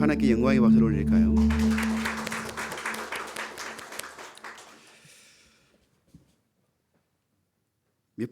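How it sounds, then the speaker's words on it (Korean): Church congregation applauding at a Sunday morning Advent service, a dense wash of clapping that starts loud and full, then thins and fades out over several seconds, with a few scattered sounds near the end. "우리 하나님께 영광의 박수를 올릴까요?"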